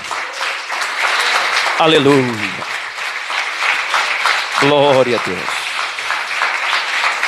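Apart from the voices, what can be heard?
congregation applauding in church service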